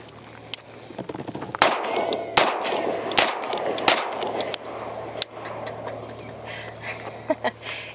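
Four sharp 9mm pistol shots from an Atlas Ares Commander, two 124-grain loads then two 147-grain, fired outdoors at a range; loud cracks spaced irregularly with echoing tails and other distant shots in the background.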